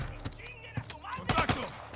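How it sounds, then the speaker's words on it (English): Video game gunfire in a Modern Warfare 2 parody crackles in short bursts and single shots, with voices talking and shouting over the shooting. "Who the fuck's shooting at me?"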